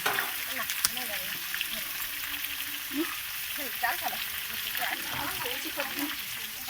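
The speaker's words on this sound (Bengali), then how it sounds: "প্রথমে উনি আলুটাকে ভেজে নিচ্ছেন।" Potatoes fry in a pan with a dense, steady sizzle that runs throughout, broken by occasional stirring scrapes and a few faint background voices.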